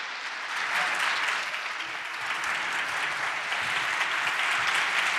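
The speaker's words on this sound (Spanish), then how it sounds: "os pido que todos recibáis con un fortísimo aplauso al colaborador de órbita laica y divulgador de física, Javier Santaolalla" Strong, sustained applause from an audience welcoming physics communicator Javier Santaolalla to the stage at the OGMIOS 2019 event, a thick continuous roar of many clapping hands throughout.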